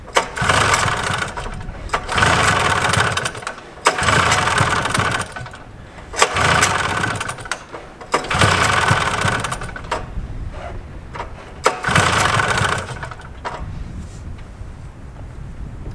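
A 1974 John Deere 400JD vintage snowmobile engine with a troublesome carburetor roars in repeated surges of about two seconds each, dropping back between revs, then settles into a rougher, weaker idle near the end. The engine is loud and close.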